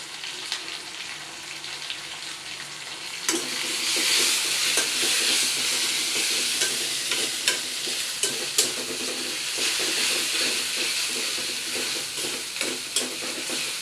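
Ginger-garlic paste and onions are stirred and fried in a pan, starting with a low hiss before a loud sizzle swells up, punctuated by repeated sharp scraping knocks of the spoon.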